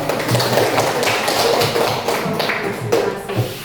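A classroom audience claps during an Islamic religious education lesson, a dense, loud burst of applause that runs steadily for a few seconds with no talking over it.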